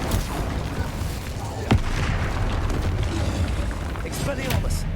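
Incendio fire spell cast in the Hogwarts Legacy video game, a roaring whoosh of flame with low rumbling booms and a sharp burst partway through, over continuous dense crackle, alongside a spoken voice.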